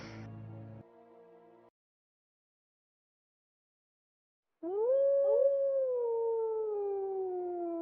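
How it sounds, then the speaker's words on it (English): A single loud, drawn-out wolf howl rises and slowly bends in pitch for several seconds, starting after a short musical tail and a pause of silence. "you hear a massive howl in the distance"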